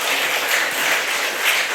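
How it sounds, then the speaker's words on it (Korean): The Chungsil Church congregation applauds at its 30th anniversary and new sanctuary dedication service, a steady, dense wash of clapping filling the hall without pause. "이때는 충실교회 목사님, 성도들은 박수를 쳐야 됩니다."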